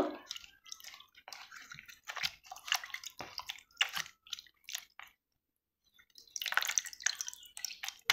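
Water drips and patters off freshly washed bottle gourd leaves set aside to drain in a kitchen, with quiet, irregular close-up taps and trickles, a brief pause, then a denser burst.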